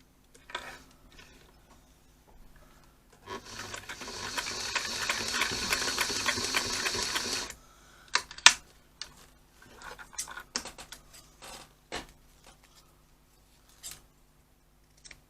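A sewing machine stitches across fabric for a scissor keeper in one steady run of about four seconds, followed by scattered clicks and handling noises.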